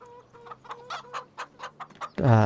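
Chickens in a farming video game cluck in short, repeated bursts at a steady pace, fairly quiet, ending with a sudden louder, rougher squawk.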